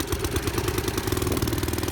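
Small 3.5 horsepower engine on a vintage Manco Thunderbird minibike running steadily with the choke half open, a close, loud, rapid chugging putter with mechanical clatter that holds a constant pace throughout.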